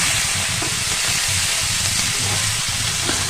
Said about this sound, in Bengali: আলু আর লাউ ডাঁটাটা দিয়ে কিন্তু বেশ কিছুক্ষণ ধরে আমরা ভাজবো।